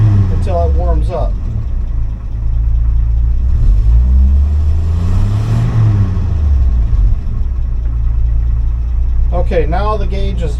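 A car engine runs steadily as it warms up, a loud continuous rumble with uneven rises in pitch, and someone talks over it near the start and the end.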